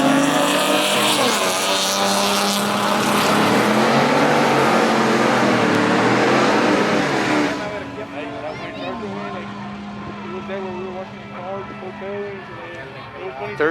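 A V6 3.7 car drag racing a GMC Sierra truck at a track day, loud roaring engines at full acceleration that cut off sharply partway through, followed by quieter idling and excited voices talking over the scene.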